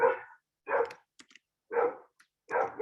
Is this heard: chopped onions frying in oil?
no